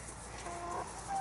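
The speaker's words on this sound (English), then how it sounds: "Just thought I'd let you see the hens scratching away." Hens on an allotment pecking and scratching at thrown corn, with soft clucking in a steady outdoor background.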